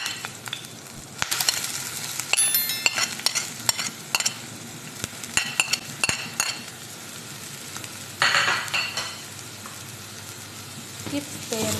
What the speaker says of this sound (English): keep stirring. Until it's brown.